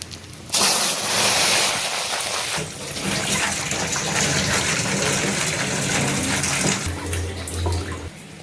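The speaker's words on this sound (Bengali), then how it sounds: "একটু জল দিয়ে দেবো।" Water poured from a cup into a pan of melted sugar while making Christmas cake, a steady close gushing splash lasting several seconds, with a brief sizzle-like surge near the end.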